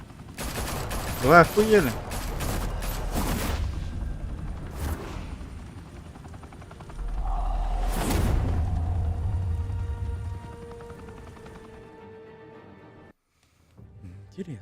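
Gunfire from the video game Batman: The Telltale Series, several sharp shots early on, then a longer stretch of gunfire, with speech in Russian and English around it.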